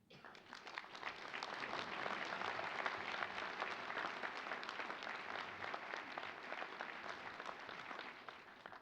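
A hall audience applauds during an inaugural address at a physicians' gathering, with sustained, even clapping heard from some distance that holds steady throughout at moderate volume.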